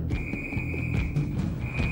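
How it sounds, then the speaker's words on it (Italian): A shrill, sustained whistle blast holds one steady high pitch for about two seconds over background bustle. "Fischio da polizia."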